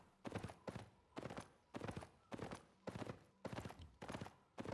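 A horse gallops in the video game Albion Online, sounding as evenly spaced rhythmic bursts of hoofbeats, quiet and steady throughout, with no talking.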